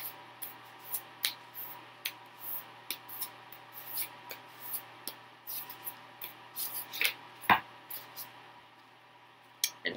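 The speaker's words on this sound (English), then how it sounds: "So I'm gonna shuffle it just a bit more." A deck of tarot cards is shuffled by hand: soft, repeated papery flicks and rubs in an uneven rhythm, fairly close and quiet, with a sharper snap near the end.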